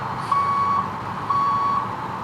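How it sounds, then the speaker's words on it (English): Fire truck reversing alarms beep at a steady pace, three long tones, over a low rumble of truck engines nearby, in Beacon Falls, Connecticut, 1992. "For the fire trucks. They're beeping."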